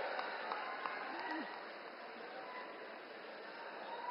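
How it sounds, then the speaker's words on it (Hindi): Loud, sustained applause from a large crowd at a Bihar political rally in Purvi Champaran for Prime Minister Modi, a dense, steady roar of clapping that eases slightly midway and continues throughout. "जोरदार तालियां बजती रहनी चाहिए।"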